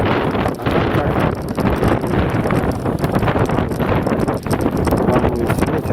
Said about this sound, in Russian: Волнуется ветер сегодня